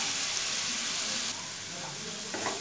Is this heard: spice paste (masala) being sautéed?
yes